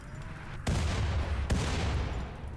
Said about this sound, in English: There goes one mortar.